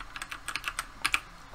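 Rapid, irregular keystrokes on a computer keyboard while coding, light close clicks in quick bursts with a couple of sharper taps near the end, with no talking.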